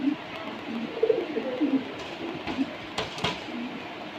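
Racing pigeons coo softly in low, throaty bursts, several overlapping calls repeating over a quiet background with a couple of faint clicks.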